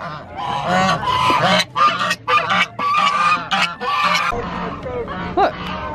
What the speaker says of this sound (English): They're geese.